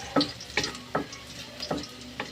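Flat-sliced garlic fries in a pan under a quiet, steady sizzle, punctuated by five or six sharp scraping stirs at uneven intervals, close and with no one speaking.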